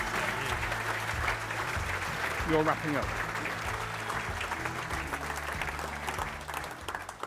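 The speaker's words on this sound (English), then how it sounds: "a round of applause" A conference audience at a farming event applauds steadily throughout, a broad wash of clapping with a speaker's voice talking over it partway through.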